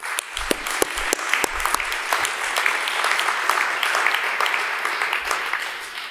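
Audience applause at a student mock trial, a burst of clapping that swells into a dense, steady ovation with a few sharp individual claps early on, then tapers slightly toward the end.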